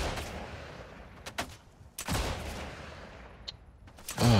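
Gunfire from a gun in the video game Unwanted Guests: a few sharp, scattered shots at moderate loudness with quiet gaps between them.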